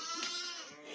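Goats and lambs bleat in village farm pens, a close, loud wavering bleat lasting about a second with no talk over it.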